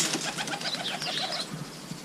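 Pigeons inside a pigeon loft coo and burble repeatedly in overlapping calls, close and clear, with soft rustling between them and no talking.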